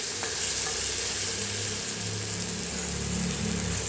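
Onions frying in a pan with potatoes and peas, giving a steady close sizzle with faint stirring scrapes throughout and no voices.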